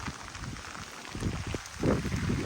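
Steady rain falling outdoors on a parked Jeep XJ beside a collapsed carport, a dense even patter with faint wind noise, swelling slightly louder toward the end, no voices.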